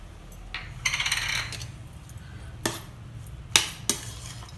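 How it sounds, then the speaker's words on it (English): Metallic spoon scrapes and clinks against a pan while barnyard millet upma with vegetables and coriander is mixed, a scatter of sharp taps and scraping strokes, fairly quiet, with no voices. "And again mix it."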